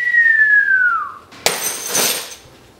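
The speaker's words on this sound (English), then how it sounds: "every time I hit them it gives the indication that glass is breaking" A falling whistle tone ends in a sudden sharp crash of breaking pint glasses and ceramic mugs, smashed as a live foley effect for a staging of It's A Wonderful Life, followed by a ringing, scattering shatter that fades.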